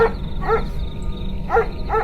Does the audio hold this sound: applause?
no